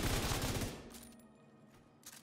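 A burst of gunfire in The Division 2 video game, loud rapid shots packed together for under a second, then a fading echo and quiet with one faint later shot.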